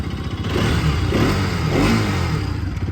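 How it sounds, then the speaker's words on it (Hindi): A Hero Karizma XMR 210 motorcycle engine idles and revs, its low throbbing swelling twice in steady surges, close by with no voices. "ये है इंजन की आवाज़"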